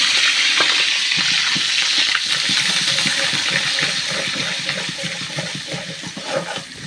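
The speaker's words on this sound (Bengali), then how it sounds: "তেলের ভিতর দিয়ে দেবো বাটা মশলা" Ground spice paste frying in hot oil for a Bangladeshi egg curry, a loud, steady sizzle with crackling pops that eases slightly toward the end, with no talking.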